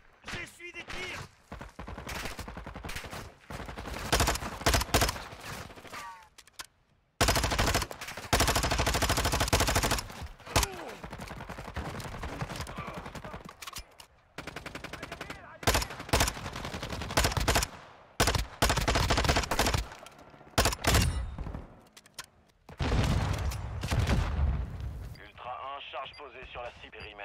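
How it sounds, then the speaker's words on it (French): Bursts of rapid gunfire and explosions in Call of Duty Warzone DMZ, loud and choppy, with voices speaking between and over the shooting. "J'essuie des tirs."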